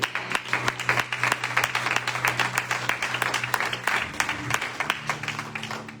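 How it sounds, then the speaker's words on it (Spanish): Church congregation applauding during a Spanish-language worship service, a steady wash of many hands clapping throughout at moderate level, with a low sustained tone underneath. "Dale un aplauso al Señor."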